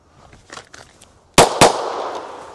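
Two sharp pistol shots from handloaded practice ammunition, close and loud, fired in quick succession with a ringing decay after softer handling noises and clicks.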